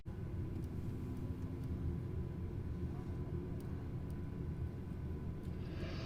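Inside the cabin of a Qantas Boeing 737-800 during pushback and engine start, a low, steady rumble and hum drones throughout, with faint muffled voices in the background.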